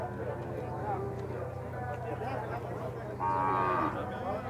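A cow moos nearby at a cattle fair in Campina Grande, Paraíba, Brazil, a drawn-out low call near the end, with background chatter and farm ambience around it.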